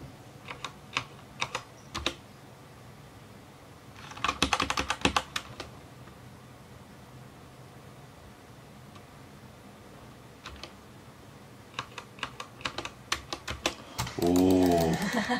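Keys clatter on a computer keyboard during a PC repair, in scattered clicks and two quick dense bursts separated by quiet pauses, close and crisp, with a short voice near the end.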